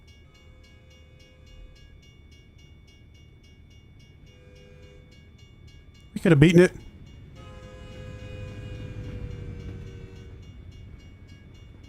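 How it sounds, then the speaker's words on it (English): A train in the American Truck Simulator driving game gives one short, loud horn blast over a low rolling rumble, and the rumble swells as the railcars pass while a person talks. "I was about to ask if there's trains in this game"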